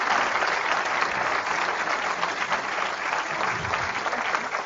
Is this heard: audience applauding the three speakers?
yes